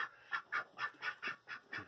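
Ducks in a barn giving a regular series of about eight nasal quacks at an even rhythm, close and fairly quiet, with no talk.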